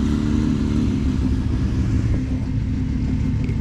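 A 2020 Can-Am X3 Turbo RR side-by-side at a fair hairpin barrel race, its turbo engine revving hard and loud in a steady, close roar with no talk over it.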